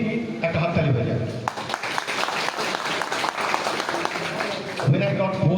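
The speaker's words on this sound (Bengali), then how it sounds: "টিম 103 একটা হাততালি হয়ে যাবে।" A crowd at an assembly get-together programme breaks into applause for Team 103, a sustained burst of clapping in the middle, with a voice speaking before and after it.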